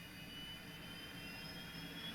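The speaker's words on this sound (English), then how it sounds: "APU is spooling up." A Boeing 727 auxiliary power unit in Microsoft Flight Simulator spooling up, a steady turbine whine with a high tonal layer over a broad, constant rumble, even and continuous throughout.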